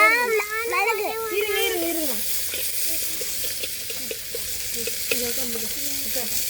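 Tomatoes and other vegetables sizzling in a pan while cooking, a steady hiss with stirring scrapes and clinks, a voice talking over the start.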